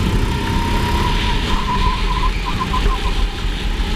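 A racing kart engine drones loud and steady up close on the COTA karting track, its pitch wavering slightly as it holds high revs, with a rumbling road noise underneath.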